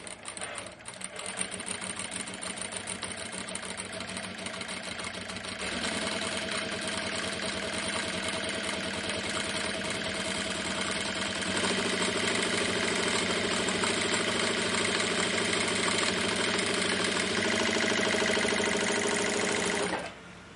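A power sewing machine fitted with a gathering presser foot runs steadily through fabric, giving a loud, continuous mechanical whir that shifts slightly in pitch along the way and cuts off just before the end.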